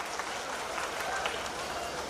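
A crowd at a Diwali fair in Lucknow applauds to welcome guests on stage, with steady, dense clapping that runs throughout at a loud, even level.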